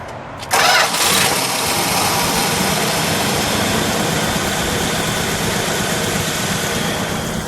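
A 1968 Plymouth Sport Fury engine cranks and catches, then settles into a steady, loud, smooth idle that rumbles on evenly without a break.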